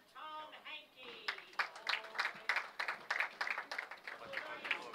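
Applause for the scratch finalists at a bowling tournament, a burst of clapping from a modest crowd that swells after the first second and continues steadily, with a voice speaking briefly at the start.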